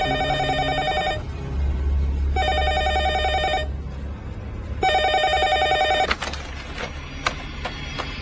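Mobile phone ringtone sounding in repeated electronic ringing bursts with short gaps, fairly loud and close indoors, followed by handling clatter and faint background noise.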